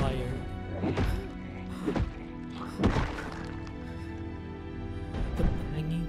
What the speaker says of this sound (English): The banging keeps going on.